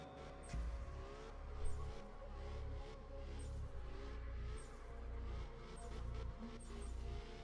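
A drifting car in the Absolute Drift arcade racing game holds a steady engine drone with rising and falling revs and tire noise as it slides and spins, sustained and fairly quiet.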